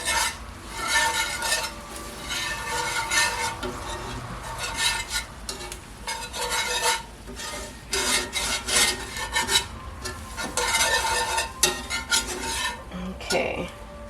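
A whisk scrapes and clatters in a pan, working flour into oil for a roux, with busy irregular bursts of metallic rubbing and tapping, close and continuous with a few brief pauses.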